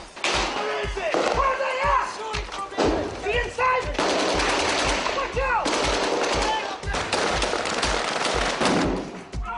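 Rapid bursts of gunfire from insurgents in Iraq crackle near a mosque, with repeated rattling volleys and single shots echoing among rooftops and houses, loud and sustained throughout.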